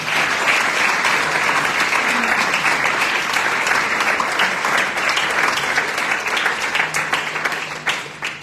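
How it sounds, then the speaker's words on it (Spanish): Sustained, dense applause from a church congregation, steady and loud throughout with many hands clapping at once, tapering slightly at the end. "Un aplauso vivo para el Señor."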